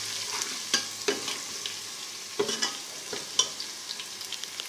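Garlic and ginger paste for chicken daal is stirred in a hot pan, a low sizzle under sharp spoon scrapes and clinks repeating every second or so, close up with no talk.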